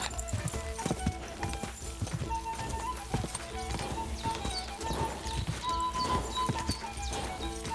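Steady hoofbeats clip-clop throughout, with an occasional horse whinny and busy background sounds from the video game Kingdom Come: Deliverance 2.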